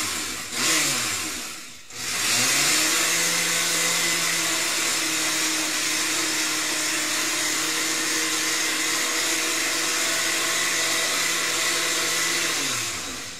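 A food processor whirs loudly in a kitchen as it chops ingredients, starting with a short burst, then a brief stop, then a long steady motor drone that winds down at the end.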